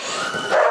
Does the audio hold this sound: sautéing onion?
no